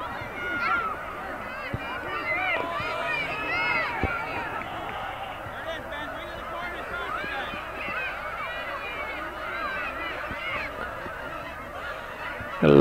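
Many geese honk overhead in a dense, continuous chorus at a youth PeeWee football game in Champlain/Rouses Point, under intermittent talk and faint crowd noise.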